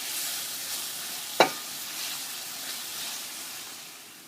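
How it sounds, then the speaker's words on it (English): Ham sizzles steadily in melted butter in a frying pan, a continuous even hiss with one sharp clack partway through, close and moderately loud with no voices. "we let the ham cook in the butter for about a minute"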